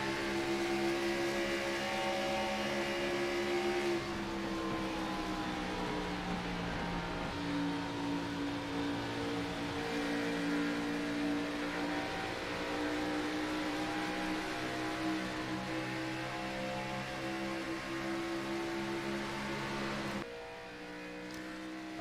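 Xfinity Series race cars circling the track at Atlanta, a steady, droning engine roar with sustained tones that dip and rise as throttle comes off and back on, continuous throughout with no talk.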